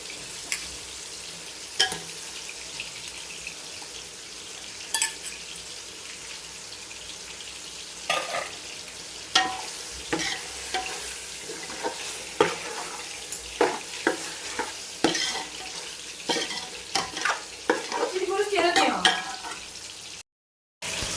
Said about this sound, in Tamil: இப்போ நம்ம க்ளீன் பண்ணி வச்சுருக்க 1/2 கிலோ சிக்கனை இதில் போட்டுக்கலாம்.